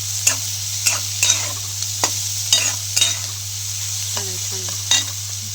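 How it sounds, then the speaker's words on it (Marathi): Onions sizzle and fry in a pan as a spoon scrapes and stirs them in several distinct strokes over a steady low background hum, with no voices. "छान असा लालसर भाजू द्यायचा बघा कांद्याला"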